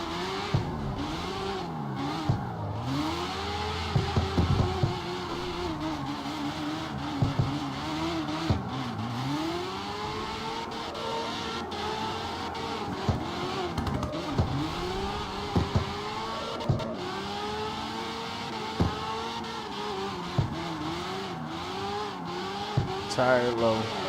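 CarX Street street drifting: a revving engine swoops up and down through repeated gear shifts while tires squeal, continuing steadily across the run with a voice talking over it.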